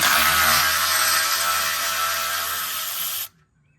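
A power ratchet whirs steadily on a brake hose retaining bolt of a Jeep Wrangler JK, a loud close continuous buzz for about three seconds that cuts off abruptly.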